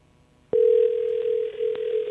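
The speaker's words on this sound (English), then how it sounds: "It's ringing." A telephone call's ring tone starts abruptly and holds as one steady, loud electronic tone through the rest of the moment, with no talking over it.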